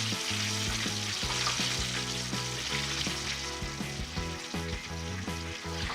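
Chicken drumsticks frying in a pan give off a loud, steady sizzle throughout, with a low rumbling hum beneath and no voices.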